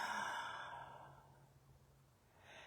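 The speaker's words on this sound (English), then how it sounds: "Take another deep breath." A slow, soft exhale from a deep breath during a guided meditation, breathy and close, tapering off into near silence with a faint intake at the end.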